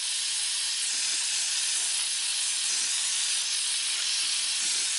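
A gas welding torch gives a steady, loud, bright hiss as it heats metal pieces and a filler rod, continuous and unchanging throughout.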